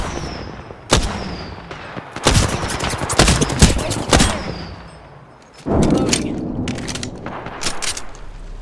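Gunfire from the Apex Legends battle royale game, in loud, close bursts of rapid shots separated by short pauses, with sharp reports and some echoing tails.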